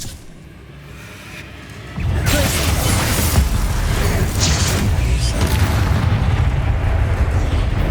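A Bombarda blasting spell erupts in Hogwarts Legacy with a sudden loud boom, then a sustained roaring, rumbling blast with crackling debris that fills the rest of the clip after a quieter opening.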